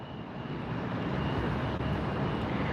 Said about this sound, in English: When the planes go over, yes, the engines are beautiful.